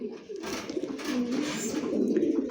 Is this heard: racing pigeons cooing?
yes